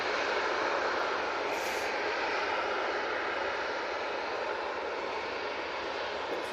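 A Ryanair airliner departing Manchester Airport for Cork, a loud, steady jet engine roar throughout with no speech.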